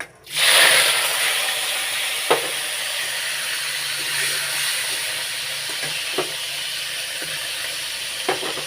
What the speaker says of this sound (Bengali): প্রথমে সুটকিটাকে একটু ভাজি করে নিচ্ছি